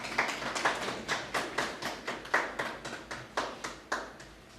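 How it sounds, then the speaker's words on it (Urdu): An audience claps to welcome a speaker at an event, heard as a steady, rhythmic run of sharp, fairly close claps that lasts about four seconds, with no talking. "آپ کی بھرپور تالیوں میں"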